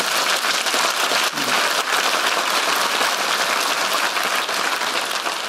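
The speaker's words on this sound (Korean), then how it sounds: "하나님께 큰 박수 합시다." Sustained, dense applause from a church congregation at a Sunday evening service, loud and steady for several seconds with no talking over it.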